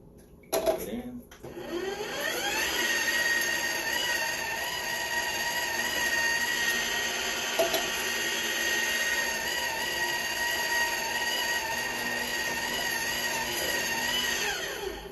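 An electric juicer grinds through lemon slices, whining up to a steady high-pitched mechanical drone after a brief clatter at the start, holding constant and loud for the rest of the clip.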